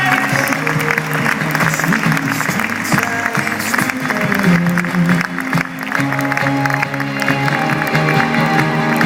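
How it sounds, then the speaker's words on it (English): A live audience at an indoor show claps and cheers for Scouts coming onto the stage. The dense applause runs steadily throughout with a crowd murmur beneath it. "Can we clap for the Scouts, guys, as these Scouts come up onto the"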